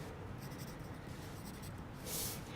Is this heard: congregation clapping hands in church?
no